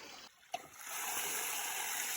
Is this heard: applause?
no